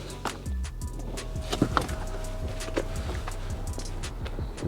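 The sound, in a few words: electric aerial extending on 1996 Vauxhall Astra MK3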